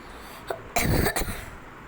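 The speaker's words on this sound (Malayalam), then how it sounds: "പനിയൊന്നുമല്ല കേട്ടോ, ചുമ." A single short cough bursts out close by, followed by a smaller throat-clearing rasp, against quiet room background.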